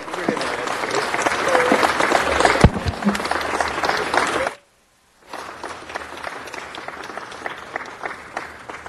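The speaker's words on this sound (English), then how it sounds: "Keep clapping." A city council meeting crowd claps loudly for several seconds, the applause cutting off abruptly into a brief silence before clapping resumes at a slightly lower level.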